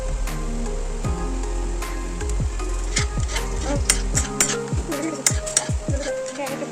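A wok on a home kitchen stove, with close stirring and frying, scattered metallic clinks and scrapes of utensils over a soft sizzle, growing busier toward the end.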